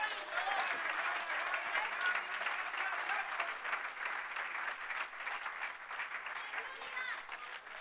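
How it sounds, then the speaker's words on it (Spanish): A congregation at an evangelical crusade service applauds, a continuous bed of many hands clapping at moderate distance, with voices and shouts rising over it throughout. "¿Quiere darle un aplauso al Señor?"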